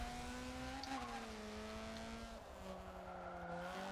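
A truck engine in the racing game Forza Motorsport 7 hums at a steady, moderately loud pitch. The tone shifts a little as the revs change, with some faint tire noise and no talk.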